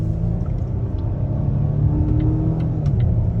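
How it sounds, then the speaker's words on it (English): A 2022 Volvo XC90 accelerating on a multi-lane highway, heard from inside as a steady low engine and road rumble that holds strong throughout, with faint higher ticks and squeaks above it. "We'll step out onto this multiple lane highway right here, show you another acceleration run."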